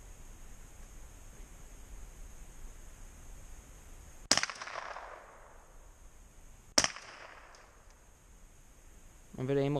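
Two sharp, loud rifle shots ring out several seconds apart at an outdoor target shoot aimed at milk jugs, each crack trailing a short echo over quiet background hiss, with a voice briefly heard at the end.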